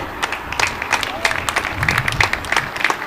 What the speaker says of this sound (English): Once again, let's give a big round of applause for all of our first responders that are here tonight.